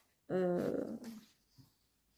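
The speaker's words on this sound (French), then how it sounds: "si vous entendez du bruit, c'est ma chienne." A female dog growls low and close, a sudden rumbling snarl that tails off into softer grumbling and a brief final huff.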